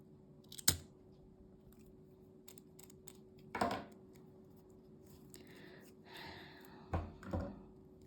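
Scissors snip crocheted cord while a yarn wallet is being finished, sharp isolated cuts spaced apart in a quiet room, followed by a few soft rustling handling sounds.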